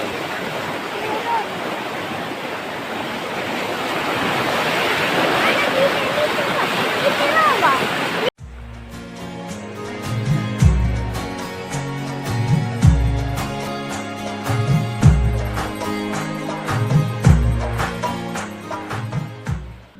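A river rushing below a road beside a canal in the Dang forest, a steady loud roar of water for several seconds before it cuts abruptly to rhythmic music.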